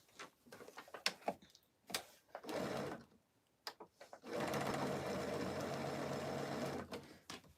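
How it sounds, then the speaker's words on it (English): Straight stitching on Christmas tea towels sewn right sides together at presser-foot width, starting with scattered ticks and brief machine bursts, then one long, even run of close, moderately quiet motor whir. "we're just going to sew a straight stitch the width of the presser foot."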